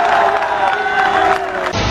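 A large political rally crowd cheering and shouting together, loud and sustained for nearly two seconds before cutting off abruptly.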